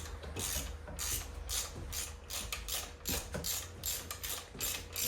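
A wrench works on a 2017 Harley-Davidson Street Glide M8 motor during teardown, giving repeated close ratcheting clicks in steady bursts over a low mechanical hum, with no talking.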